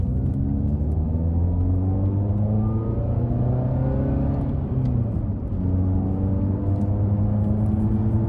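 A Scion tC on Tein coilovers cruises and turns, heard from inside as a steady, loud engine drone whose pitch rises and falls with the throttle, dipping briefly midway through the turn.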